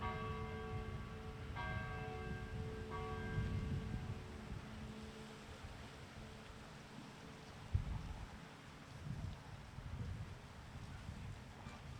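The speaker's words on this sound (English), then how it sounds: "a moment of silence while the bells ring" Church bells ring out during a Veterans Day ceremony in Acton during a moment of silence. Several ringing strikes leave layered tones hanging and slowly fading, quiet and distant, with light wind noise underneath.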